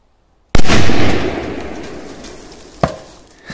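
A powerful firecracker blasts under a metal canister, one loud, sharp explosion followed by a long fading rumble, then a second smaller pop near the end.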